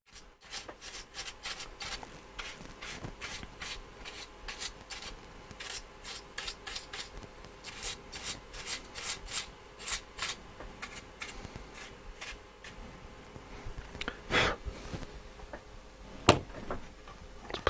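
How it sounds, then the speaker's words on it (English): Brush dusting the battery compartment of a National Panasonic R-358B radio, producing quick, even rubbing strokes close up, with a couple of sharper knocks near the end. "dust the battery compartment"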